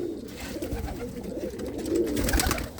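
Domestic pigeons released from their loft coo softly and steadily at moderate distance, a low, continuous murmur of overlapping calls with no speech.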